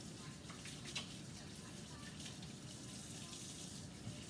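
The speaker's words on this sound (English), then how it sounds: "Let me wash my hands really quick." A kitchen tap runs steadily into a sink while hands are washed, a faint continuous rush of water with a few small splashes and light background voices.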